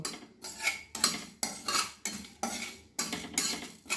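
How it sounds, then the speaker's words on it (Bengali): Cumin, coriander, fennel and dried chilli dry roasting in a pan on low flame, heard as rhythmic bursts of a spoon scraping and rattling the spices about once every half second, close and fairly quiet. "ভাজা মশলা তৈরি করে নিচ্ছি জিরে ধনে মৌরি আর শুকনো লঙ্কা আমি ভেজে ঠান্ডা করে গুঁড়ো করে নেব"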